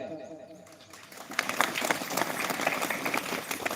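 Hands clap at a live religious sermon gathering: a dense burst of crowd clapping that builds after a quiet start and keeps going, mixed with voices.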